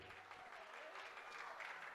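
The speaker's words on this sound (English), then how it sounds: "round of applause. One more time for the maid of honor, Crystal" Wedding guests applaud the maid of honor during the reception toasts, a steady, dense clapping that holds at an even level for the whole stretch.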